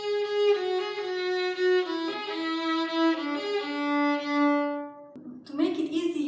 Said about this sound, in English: So we can play C exceptionally with fourth finger.